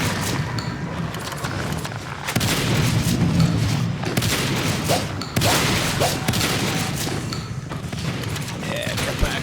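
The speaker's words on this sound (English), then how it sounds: "Some nice shooting on those guns" Gunfire in Natural Selection 2 during a competitive match, with bursts of shooting and thuds layered over continuous game noise and a voice talking throughout.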